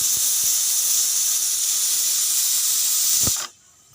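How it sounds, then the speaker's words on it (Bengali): A pressure cooker whistle lets out a loud, continuous hiss of steam while soybean rice and fish cook, then cuts off abruptly near the end with a couple of faint knocks underneath. "তিনটা সিটি হয়ে গেছে, এবার আমি গ্যাসটা অফ করে দিচ্ছি।"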